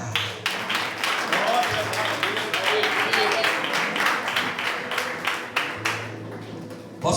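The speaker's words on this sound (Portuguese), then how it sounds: "aplaude Deus e senta" A church congregation claps and applauds together in a ragged, rhythmic burst of hand claps, moderately close, with voices mixed in throughout.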